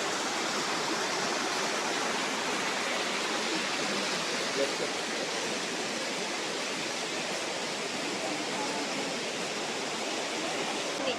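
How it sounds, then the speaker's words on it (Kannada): Steady roar of water cascading stepwise down the third waterfall at Elephant Falls, Shillong, Meghalaya, heard up close as a broad, unbroken rush at constant loudness, no talking over it. "ನೀರು ಎಷ್ಟು ಚೆನ್ನಾಗಿ ಸ್ಟೆಪ್ ವೈಸ್ ಬರ್ತಾ ಇದೆ."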